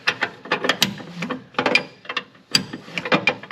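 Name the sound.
wrench turning flare nuts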